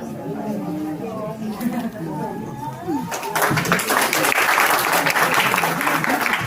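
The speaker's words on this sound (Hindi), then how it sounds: "जोरदार तालियों से स्वागत" Someone speaks into a microphone, then loud, sustained applause erupts midway to welcome a senior theatre artist being honoured at the Pragya Art Award 2025 ceremony in Uttarakhand.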